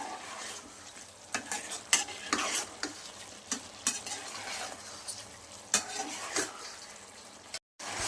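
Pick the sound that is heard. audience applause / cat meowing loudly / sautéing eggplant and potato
sautéing eggplant and potato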